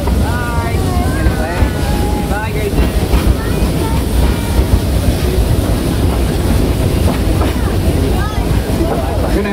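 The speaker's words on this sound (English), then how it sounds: "42-ton steam locomotive and about a 75-ton loaded train behind it" A 42-ton steam locomotive pulling a loaded narrow-gauge train rumbles and clatters steadily, with squealing metallic tones and heavy wind buffeting; voices can be heard faintly in the mix.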